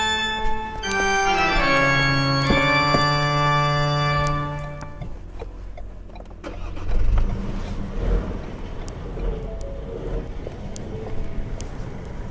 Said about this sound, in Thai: อันนี้ก็เป็น เสียงท่อของเรานะคะ